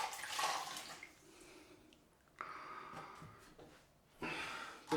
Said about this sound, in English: Just rinsing off this cloth again.